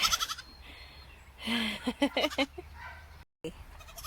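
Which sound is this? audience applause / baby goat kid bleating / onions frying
baby goat kid bleating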